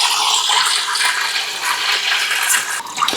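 A home washing machine fills its tub with a steady rushing stream of water, loud and close, with no talk over it.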